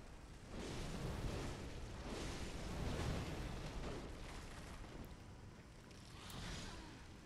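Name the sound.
worm explosion in Bloodborne video game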